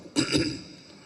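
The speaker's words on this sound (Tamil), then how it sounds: "பாரு இருமல் வருது" A single short cough, sharp and close, at a film press meet, followed by a brief fading tail in an otherwise quiet space.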